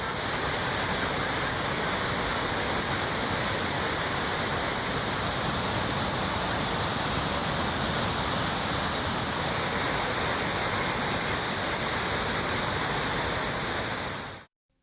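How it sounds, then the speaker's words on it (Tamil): Courtallam waterfall pouring heavily after continuous rains, a loud, steady roar of falling water that fills the whole clip without a break before it cuts off abruptly at the end. "இதனால் அருவியில் தண்ணீர் ஆர்ப்பரித்து கொட்டுகிறது."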